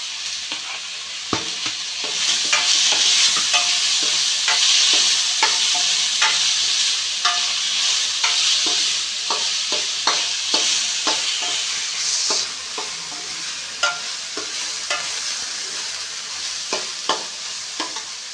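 Chopped vegetables, tomato and potato for fried rice are stirred in a hot pan, a steady sizzle broken by repeated sharp scraping clicks of the spatula, close and fairly loud with no talk.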